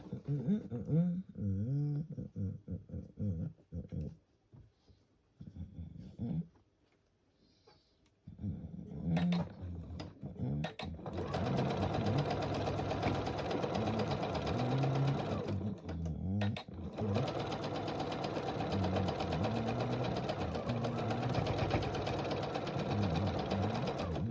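A sewing machine sews a quarter-inch seam on a fabric runner. Its steady motor whir starts after a few short bursts and a quiet pause, then runs continuously and loudly, with a brief stop near the end.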